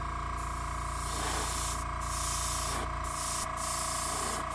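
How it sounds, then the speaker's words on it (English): A Gaahleri Aventus airbrush sprays wide open at 10 psi, producing a continuous close, loud airy hiss over a steady low compressor drone, with a few brief dips as the trigger eases, no talking. "That's wide open on the airbrush, so it takes a little bit more to do the job."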